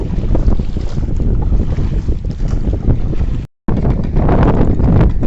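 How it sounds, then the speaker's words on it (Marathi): Strong wind on a creek during a fishing trip buffets the microphone in loud, roaring gusts, broken by a brief dropout midway, with no voices. "तर आता ना वाऱ्याचा वेग जास्त आहे"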